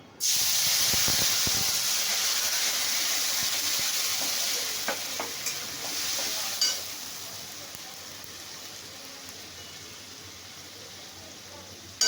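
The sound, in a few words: frying fried ginger, onion, garlic spice paste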